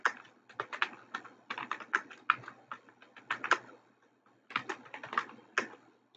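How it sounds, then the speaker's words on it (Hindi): Typing a name on a computer keyboard for an Excel sheet: rapid bursts of close, crisp key clicks in uneven runs, with a short pause before a final flurry. "आप जस्ट एक दफा नाम और टाइप करें यहाँ पर"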